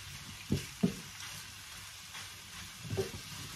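Chicken frying in a little oil, a faint soft sizzle with a few distinct stirring clacks close by.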